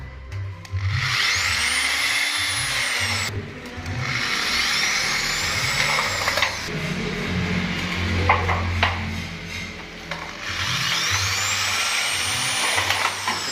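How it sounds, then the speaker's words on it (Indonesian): A power drill drives bolts into a gypsum ceiling frame, with three long rising whines, each a few seconds long, separated by short pauses and scraping, clattering handling noise close by. "Setelah ini baru kita baut. Kita baut ke 4 sisinya"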